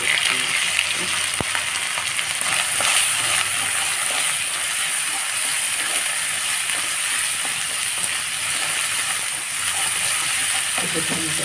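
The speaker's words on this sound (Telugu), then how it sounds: "ఆనియన్స్ వేగిపోయింది. కొంచెం అల్లం వెల్లుల్లి పేస్ట్ వేసుకున్నాం. కొంచెం పచ్చవాసన వేయించుకున్నాం." Onions sizzle steadily with ginger garlic paste in a pan, with constant loud hissing and occasional scraping of a stirring spoon and no talk.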